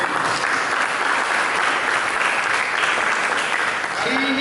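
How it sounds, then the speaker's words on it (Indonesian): A church congregation applauds together during a Sunday worship service, steady dense clapping filling the room from start to finish at a loud, even level, with a faint tone entering near the end. "Mari kita sambut firman Tuhan dengan beri tepuk tangan bagi Tuhan."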